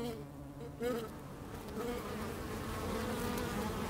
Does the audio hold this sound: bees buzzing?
yes